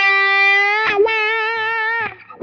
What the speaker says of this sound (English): Adding the wah after the distortion.